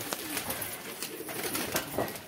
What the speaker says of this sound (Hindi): तो भाई उनके भी तीन कबूतर उड़ रहे हैं